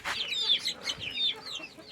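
Chickens on a small backyard farm cluck in a close, steady series of short calls, some rising higher, with no talk over them.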